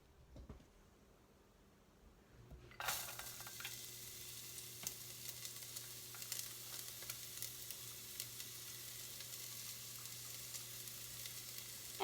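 Onions hit hot olive oil and set off a sudden, close sizzle that stays steady and crackling for the rest of the clip after a quiet start, with no talking over it.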